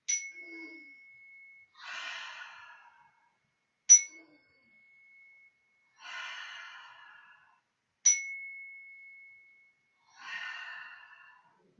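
A clear metal chime is struck three times at even intervals for a breathing exercise in a children's Easter-themed yoga session, each ring sustaining and fading, followed each time by a long audible exhale.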